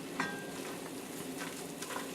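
A gumbo roux of flour and olive oil being stirred in a pot gives a constant soft sizzle and hiss, with a few light scrapes of the spoon, close and quiet.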